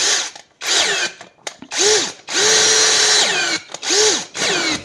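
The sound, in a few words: power drill drilling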